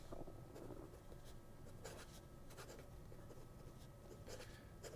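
A fountain pen with a medium nib scratches across paper in short, faint strokes with brief pauses between them, heard up close in a quiet room.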